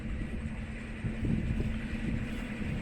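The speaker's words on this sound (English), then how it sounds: "it's pretty windy" Steady wind rumbles and buffets across the microphone on a canal narrowboat, a low continuous roar with slight gusts.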